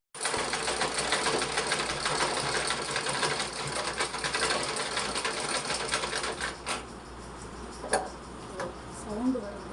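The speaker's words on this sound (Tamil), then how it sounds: "மிஷின் வந்து கட கட கட கட கடன்னு சவுண்டு வருது." A domestic sewing machine with a stiff, tight mechanism runs steadily up close with a fast, rattling clatter, and a few louder knocks come near the end.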